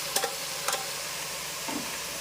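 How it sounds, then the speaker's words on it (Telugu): Brinjal and green chillies fry in a pan, a soft steady sizzle up close, broken by two short sharp stirring clicks early on and a faint scrape later, with no voices. "పచ్చిమిరపకాయలు బాగా ఫ్రై అవుతున్నాయి."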